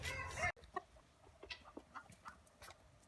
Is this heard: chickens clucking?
yes